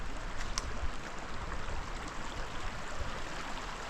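A small mountain waterfall at Camporells sends out a steady, even rush of falling water, continuous and fairly close, with no voices over it.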